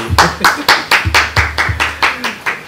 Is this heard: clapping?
yes